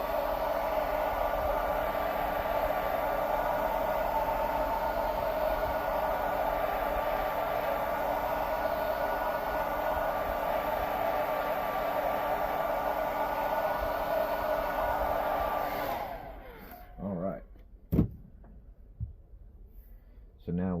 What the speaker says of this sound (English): what I'll do a lot of times is I'll get my blow dryer and just go ahead and